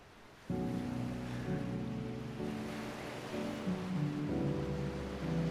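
Ocean waves in Final Fantasy XVI wash in as a steady, soft surf hiss beneath sustained orchestral chords, moderately quiet and continuous.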